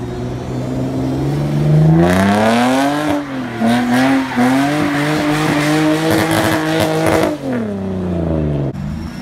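A drift car roars loudly close by, its engine revving up and down in repeated surges while tyres squeal through a sustained slide, with no talk over it.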